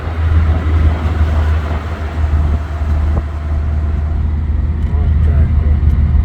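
A car drives toward the mountains with a continuous low road and engine rumble filling the cabin, steady and fairly loud throughout.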